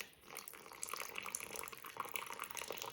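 Water trickles steadily down a small model river channel in an earth science activity, a soft continuous flow with faint splashy detail and no talk.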